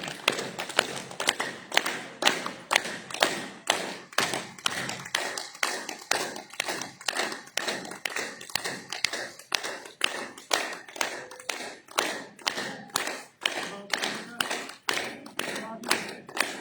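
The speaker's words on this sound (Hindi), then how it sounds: "ताली ताली हाथ ताली चलिए ताली बजा लीजिए" Group clapping in unison as a health exercise session: sharp, evenly spaced claps repeat in a steady brisk rhythm for the whole stretch, close and fairly quiet, with no talk over them.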